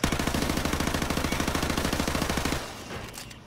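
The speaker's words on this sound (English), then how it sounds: "Shoot the remaining targets." Rapid automatic gunfire at targets in the video game Call of Duty: Modern Warfare comes as one long, loud, evenly paced burst of several dozen shots, then cuts off and leaves a fading tail.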